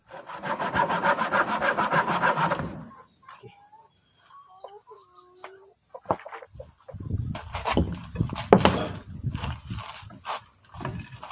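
Wood being sawn by hand for a chicken coop door frame: a dense, steady run of rhythmic strokes for about three seconds, then quieter scattered knocks and clucking chickens close by.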